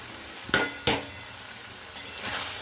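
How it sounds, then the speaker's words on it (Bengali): Boiled figs hit hot oil in a pan for Bengali dumurer dalna, giving two sharp clattering impacts followed by a low, steady sizzle and a lighter knock, close and moderately loud. "এবার আমি এই ডুমুরটা সেদ্ধ করে রেখেছি ডুমুরটা দিয়ে দেবো"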